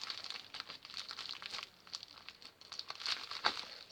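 Parcel packaging being cut and torn open for spinning-top toys, giving close crinkly plastic rustles and tearing scrapes in uneven bursts.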